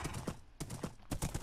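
Horse hooves clip-clop in Minecraft in quick, even steps, several bursts of clattering footfalls close and fairly loud, with no talk.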